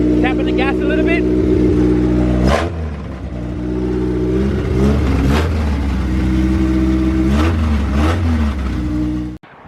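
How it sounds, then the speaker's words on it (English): A Honda EJ2 with a B20z1 engine swap and no exhaust idles with a loud, raw, rumbling note and is blipped three times. Each blip sends the revs up sharply and back down, with a voice talking nearby. "Tapping the gas a little bit."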